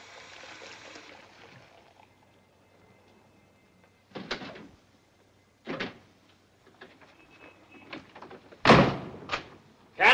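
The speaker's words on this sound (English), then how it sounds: "the door unlocked." A door is handled in a quiet interior in the 1953 film Pickup on South Street: a soft rattle fades out, then several sharp latch and lock clicks and thumps arrive at intervals, the last ones loudest and close.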